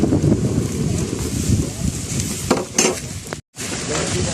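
A spoon works seafood kare-kare with crabs, shrimp, mussels and banana heart around a hot pan. Close stirring scrapes run over a steady sizzle, with a few sharper clinks and a brief dropout near the end.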